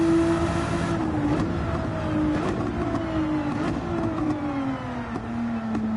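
A racing car engine in a sim racing video game drones steadily at full throttle down a back stretch, its tone sliding slowly lower over several seconds. Loud and continuous, with no voices.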